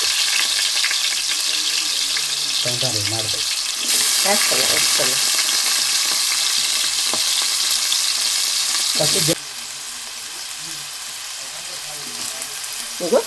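Steady loud sizzling of potato pieces frying in hot oil, with intermittent stirring clatter and brief voices in the background.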